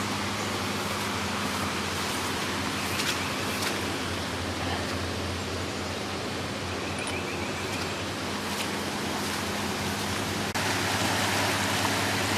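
Creek water flowing behind a backyard, working its way around piled-up debris and junk in a deep-banked channel, a steady broad rushing wash that stays constant and fairly loud throughout with no talk.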